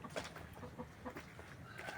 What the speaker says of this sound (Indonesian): ternak ayam yang saya buatkan tempat untuk bertelur